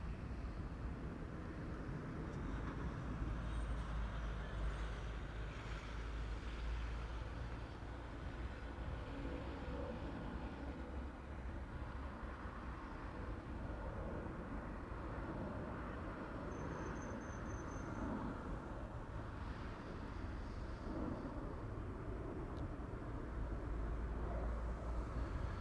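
A Turkish Airlines Airbus A330-300 departs Amsterdam Schiphol, heard as a faint, distant, steady jet rumble and roar that holds evenly for about twenty-five seconds with no voices.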